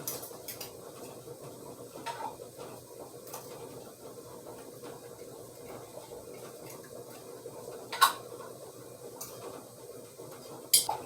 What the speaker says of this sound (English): now I'm going to take my fork and put the lids on.